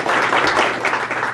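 Brief round of applause from a small historical society gathering, a dense wash of clapping heard alone for just over a second.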